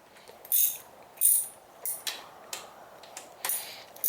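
Socket ratchet tightening the intake manifold bolts on a 150cc scooter, a few short bursts of clicking separated by pauses, close and fairly quiet, with no talking.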